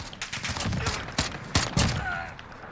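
Rapid single shots from an MK 14 EBR Mod 0 rifle in Call of Duty Modern Warfare, several sharp, loud cracks spaced unevenly over a few seconds with a faint mechanical whine between them.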